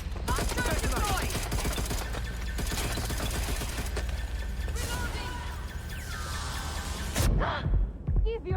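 Dense, continuous automatic gunfire in Watch Dogs: Legion, rapid rattling shots layered with mechanical clatter, loud and close, ending in a brief lull broken by a few heavier impacts.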